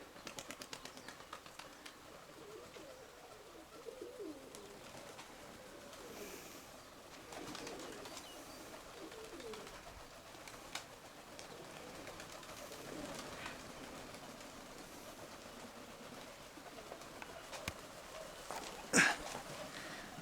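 Pigeons, including young birds, coo softly in a loft, with faint low calls under a quiet background and a few light taps and clicks.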